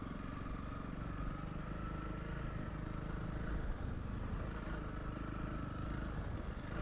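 A Honda CRF 300 Rally motorcycle rides over a rough gravel road in the Western Cape, its engine droning steadily and close with rumbling, rattling road noise throughout.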